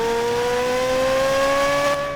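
A Corvette Z06 with a large flat-plane V8 revs hard, a loud, steady high-pitched engine wail whose pitch climbs slightly before easing off at the end, with no talk.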